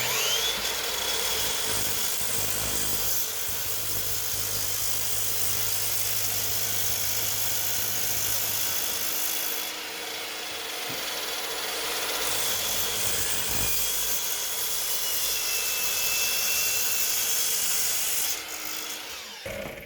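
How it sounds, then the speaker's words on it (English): Saw fitted with a Diablo aluminum-cutting blade slicing through half-inch-thick aluminum plate: a loud, continuous grinding whine with a high ringing edge that holds steady for nearly twenty seconds, easing briefly midway before resuming. "we're cutting the 1/2 inch aluminum. I've got a Diablo blade made for cutting aluminum."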